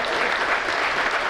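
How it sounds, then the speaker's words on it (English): Steady, even applause fills the room at a Chamber of Commerce gala as new executive board members come up to be installed, a continuous wash of many hands clapping with no break. "let's give them a round of applause as they come up"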